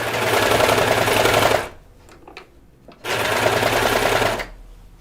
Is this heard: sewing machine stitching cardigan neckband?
yes